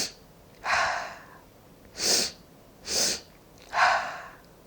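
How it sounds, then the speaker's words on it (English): Breathing exercise: sharp nasal inhales followed by mouth exhales, four distinct airy breaths evenly spaced over a few seconds, close and fairly quiet with no talking. "you're going to take 2 short, sharp inhales through your nose"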